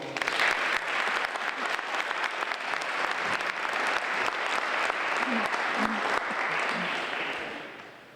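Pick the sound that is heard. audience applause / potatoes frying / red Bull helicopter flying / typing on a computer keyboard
audience applause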